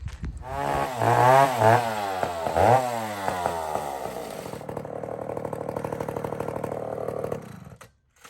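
A Homelite chainsaw revs loudly and close, with two rising and falling throttle surges, then settles into a steady buzzing idle before cutting off at the end.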